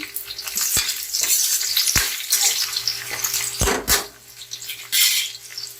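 Onion and garlic fry in hot oil in a pan, a bright crackling sizzle broken by sharp clacks of a utensil scraping and stirring against the metal.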